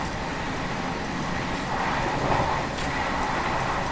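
Howrah to New Delhi Rajdhani Express train running, heard from inside as a steady broadband rumble and rattle that holds evenly throughout, with a few faint clicks and no speech.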